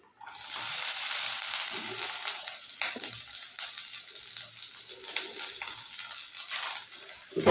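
Nuts and coconut fry in ghee with a steady, close sizzle that carries on throughout, broken by faint stirring scrapes.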